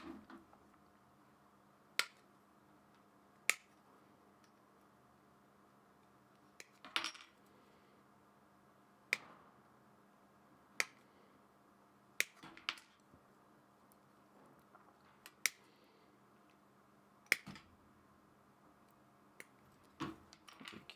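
Small plastic miniature parts are snipped off the sprue with cutters, about a dozen sharp, isolated clicks spaced a second or two apart over a quiet background.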